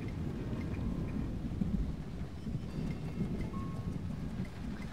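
A thunderstorm in the video game Splinter Cell: Chaos Theory rumbles steadily, with a deep, dense roll of thunder blended into constant rain noise and no talking.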